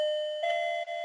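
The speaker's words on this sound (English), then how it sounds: "I meant doorbell." A doorbell rings with a single clear, sustained electronic chime tone that shifts slightly partway through, heard alone.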